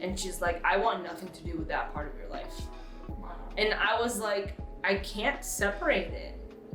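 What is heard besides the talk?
No distinct noise like a dog, phone or traffic.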